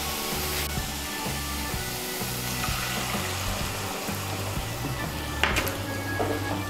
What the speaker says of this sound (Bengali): এখন এর মধ্যে আমি দিয়ে দিচ্ছি 1/2 কাপ ঘন দুধ